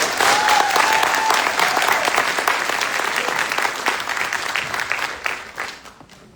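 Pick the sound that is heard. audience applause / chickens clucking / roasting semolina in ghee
audience applause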